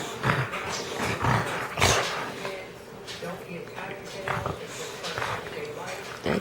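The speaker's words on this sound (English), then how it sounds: "She's growling." Two dogs, Duchess and Abby, growl while playing, close-up rumbling growls and snarls in uneven bursts with yips and scuffling, loud and near, with a person's voice speaking over parts of it.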